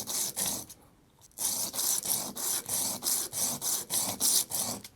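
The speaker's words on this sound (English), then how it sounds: "I'm going to start out by sanding the bottom of the sight" Rhythmic back-and-forth sanding strokes on the bottom of a small handgun sight, steady and close, about a dozen passes after a brief pause.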